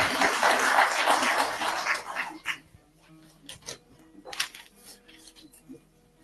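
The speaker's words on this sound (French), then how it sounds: "Sous vos applaudissements," Audience applause at an official event at the Prime Minister's office, welcoming the employers' representative to speak; dense clapping fills the first two seconds, then fades into scattered quieter room sounds.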